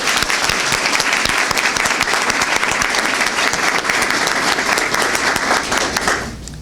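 Students, teachers and parents applaud at a school district press conference, a dense, loud, sustained round of clapping that fills the room for about six seconds before fading away.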